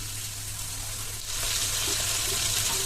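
Radish and drumstick pieces sauté in a pan for sambar, a steady hiss of frying that swells louder halfway through, with no one talking.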